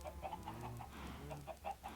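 Chickens on a video game farm cluck in a rapid series of short, repeated clucks, fairly close and moderately quiet, with several birds overlapping and no speech.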